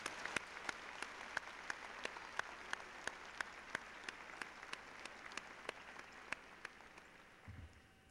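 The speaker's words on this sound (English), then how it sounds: "Class of '96, I would like you to join me in giving our parents and teachers a big round of applause" A graduation audience of the class of 1996 gives parents and teachers a long, steady round of applause, dense clapping at a moderate distance holding evenly before tapering near the end.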